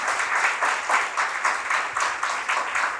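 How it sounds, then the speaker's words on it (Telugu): A church congregation claps loudly together in praise to God, producing a dense, steady burst of applause with rhythmic swells, close and filling the hall. "ఒకసారి గట్టిగా చప్పట్లు కొడుతూ దేవుడిని మహిమపరుస్తామే"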